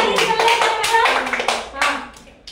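Children clap their hands in a rhythmic run of quick, close, loud claps while playing a classroom game, with a voice chanting along.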